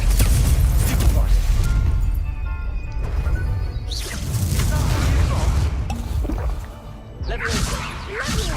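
Spell combat in Hogwarts Legacy: magical blasts, booms, whooshes and crashing impacts pile up in a dense, loud battle mix, with a voice calling out spells over the effects.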